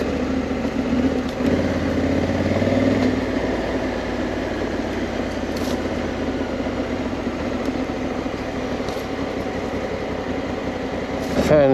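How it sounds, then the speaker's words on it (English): Cooling fans whir steadily on a stationary Honda Africa Twin motorcycle on a humid day, a continuous broadband drone with a low engine rumble beneath, holding at a constant moderate level throughout with no speech. "Fans going on the bike."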